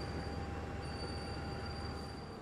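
The Dharmawangsa Express passenger train is shunted at Surabaya Pasar Turi station, giving a steady, loud rolling rumble. Thin, sustained wheel squeal rides over it without a break.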